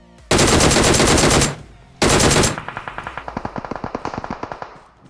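Automatic gunfire in a squad-based shooter video game: two long, loud continuous bursts followed by a rapid series of distinct sharp shots, with no talking.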